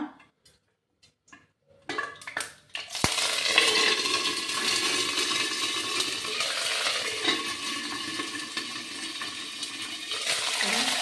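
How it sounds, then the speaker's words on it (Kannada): Mustard seeds dropped into hot oil in a heated pan, starting with a few sharp clicks and pops, then a dense, continuous sizzle and splutter close by that persists to the end. "ಎಣ್ಣೆ ಹಾಕ್ತಾಯಿದ್ದೀನಿ. ಮತ್ತು ಸಾಸಿವೆ ಹಾಕ್ತಾಯಿದ್ದೀನಿ. ಅದು ಸಿಡಿಯುತ್ತೆ."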